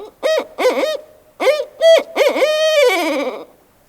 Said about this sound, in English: So the barred owl is a Wisconsin native species.